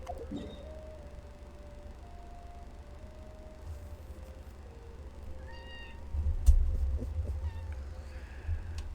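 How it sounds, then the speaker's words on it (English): A pet cat meows faintly a couple of times in the room during a gaming broadcast, soft cries rising above a steady low hum and background game sound, with no one talking. "My cat thinks she's adding to the broadcast"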